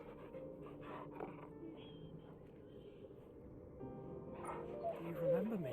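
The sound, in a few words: dog panting and whimpering in video game Final Fantasy XVI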